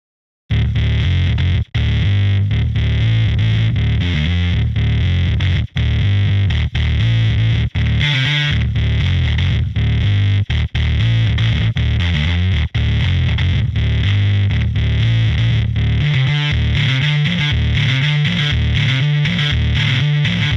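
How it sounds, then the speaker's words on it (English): A synth bass heavily distorted through a distortion plugin plays a continuous, gritty riff with a wobbling, effected tone, loud and alone without any voices. "I'm going to turn on a distortion plugin and play a little bit with this bass."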